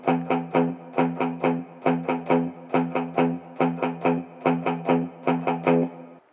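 Distorted electric guitar played through an effects unit, chugging in a steady pattern of three sixteenth notes per beat with the fourth left silent, repeated in clear groups of three at close range, no voices.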